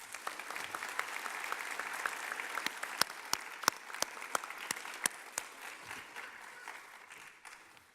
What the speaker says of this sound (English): Please join me in giving the Keys faculty a round of applause.